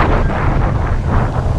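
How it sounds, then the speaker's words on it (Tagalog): Strong wind buffets the microphone, a loud, rough, continuous rumble that gusts unevenly throughout. "malakas yung ihip ng hangin"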